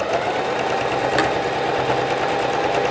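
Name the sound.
sewing machine stitching fabric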